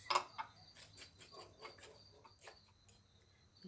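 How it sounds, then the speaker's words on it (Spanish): Crickets chirping outdoors at night, a faint, steady high-pitched trill running throughout at a distance, with a few scattered soft clicks and no talking. "¿Escuchan los grillos?"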